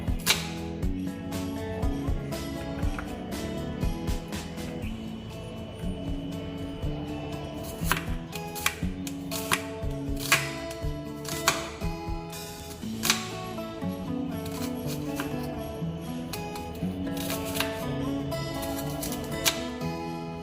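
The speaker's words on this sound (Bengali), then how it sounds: "পেঁয়াজগুলো সব কুচি করে নেব।" Onions are chopped finely with a knife on a board for paneer butter masala, a fast, steady run of crisp taps close by with no talk.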